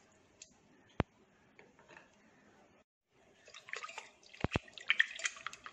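Half a cup of water is poured onto chicken in a pressure cooker: a quiet drip and clink at first, then a short splashing pour near the end, close and soft, without talk.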